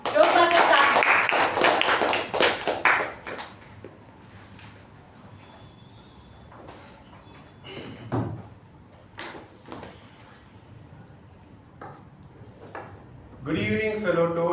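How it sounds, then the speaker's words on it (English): A Toastmasters club meeting audience breaks into a dense burst of applause that rings loudly for about three seconds, then thins out into scattered claps and a quiet room, with a voice beginning near the end. "let's give us a huge round of applause for the Sergeant of Arms of this club"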